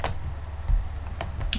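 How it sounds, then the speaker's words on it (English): A few keystrokes on a computer keyboard give sharp, close plastic clicks, spaced unevenly over a faint room hum. "if I type in sine"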